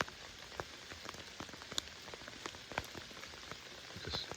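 Steady rain patters down through an evening bow hunt outdoors, a dense hiss of drops with scattered sharper taps striking nearby surfaces, continuous and fairly close with no talking.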